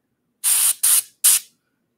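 Three short, close airbrush bursts of paint spray hiss in quick succession, each lasting under a third of a second and separated by silence.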